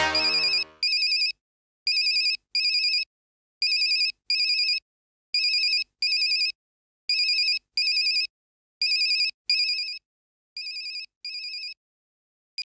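A mobile phone left behind in a Hindi TV drama rings with a crisp electronic ringtone, sounding in evenly spaced double bursts that repeat about ten times, clear and alone with silence between them.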